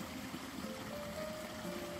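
Mountain spring water at Sendang Beji, a bathing spring near Yogyakarta's south coast, flows in a soft, steady trickle, faint and continuous with a faint tonal hum beneath and no one talking.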